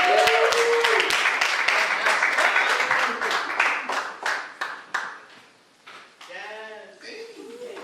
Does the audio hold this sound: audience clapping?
yes